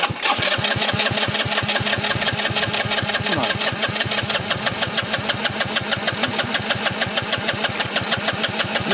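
A worn used scooter's small engine sputters to life and runs unevenly close by, with rapid rhythmic pulsing and knocking that wavers as it struggles to keep going.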